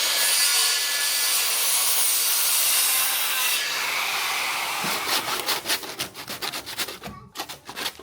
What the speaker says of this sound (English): So using a handsaw, I need to cut a straight line here to shorten it.